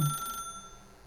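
A telephone rings in the video game The Stanley Parable, giving a short, bright, steady electronic trill at moderate volume with no other sound around it.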